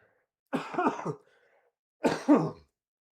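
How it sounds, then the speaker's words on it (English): Two harsh coughing fits, close and loud, separated by a short silence. "Sorry for coughing."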